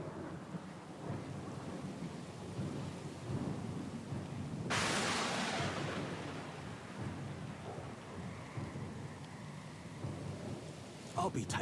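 A thunderstorm at sea in the video game Pillars of Eternity II: steady heavy rain hisses throughout while a sharp thunderclap bursts near the middle and rolls away into the downpour.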